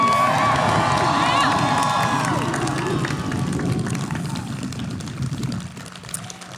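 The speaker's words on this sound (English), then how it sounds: "Let's take a moment to thank them with a wave, a salute, a cheer, but make it really loud" Graduates at a Chico State commencement cheer loudly, a large crowd roaring with shouts, whoops and some clapping, strongest at first and gradually fading toward the end.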